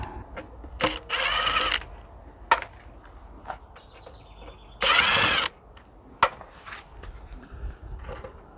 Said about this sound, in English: I mentioned this Makita drill in a few videos I did before